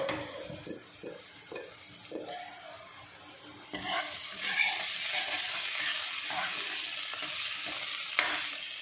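A tadka of onion, ginger and green chillies sizzles in a pan for saag, soft stirring scrapes at first, then a sudden louder burst of steady frying hiss that continues to the end.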